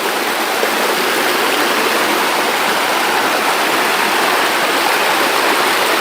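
A river tumbles down in shower-like streams among pools, a loud, steady, broadband rush of flowing water with no pauses or voices.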